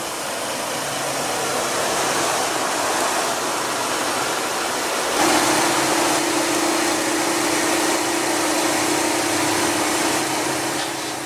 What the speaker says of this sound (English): under the hood you will find a 2-liter 4-cylinder turbo powertrain producing 200 horses with 207 pound-feet of torque